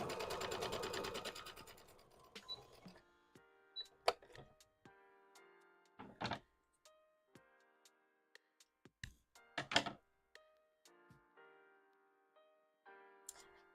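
Sewing machine running on fabric in a brief loud rapid whir at the start, followed by quieter scattered clicks and short chiming electronic tones.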